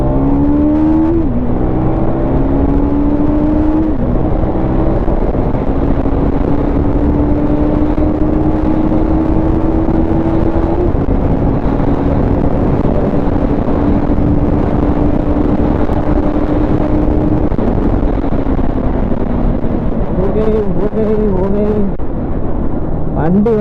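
A 2025 KTM Duke 250 motorcycle engine drones loud and close through a sustained ride, its pitch climbing steadily as it accelerates and shifts through the gears.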